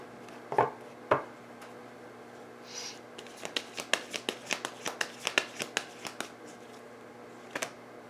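Tarot cards shuffled and drawn by hand at close range: a few sharp slaps, then a quick run of crisp riffling snaps and flicks, ending in two light taps.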